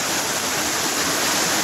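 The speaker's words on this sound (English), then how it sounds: "So everything washed from the road down into the gully." Rainwater from the road rushes down into a gully in a dense, loud, continuous roar of running water, close and steady, with no voices.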